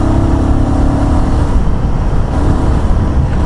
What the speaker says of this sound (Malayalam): പിന്നെ ആ എയർ ഇൻടേക്ക് ചെയ്ത ശബ്ദം കണ്ടില്ലേ